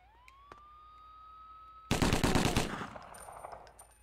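After a steady rising electronic tone, a loud rapid burst of automatic gunfire erupts in the video game 25 To Life, then tapers off into echoing shots and noise.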